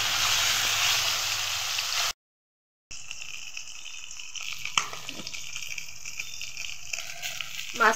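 Bata fish sizzles steadily in hot oil in a wok, seasoned with salt and turmeric; a bright hiss fills the first seconds, then a short gap of silence, then quieter, irregular crackling with scattered pops as it fries.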